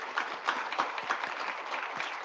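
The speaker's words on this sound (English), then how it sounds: "Could we just give Betsy one more round of applause?" A room full of people at a political chair speech event gives another round of clapping, a soft steady patter heard from a distance, with no talking over it.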